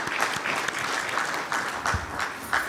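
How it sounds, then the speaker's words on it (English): Audience applause at a tourism conclave panel session, a steady broadband clapping from a crowd that holds evenly through the whole stretch at moderate loudness, with no talk over it. "Please give them a warm round of applause."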